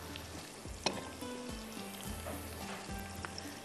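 Onions browning in a pan for chukandar gosht, a steady close sizzle of frying with a few sharper spits and light stirring clatters, no talk.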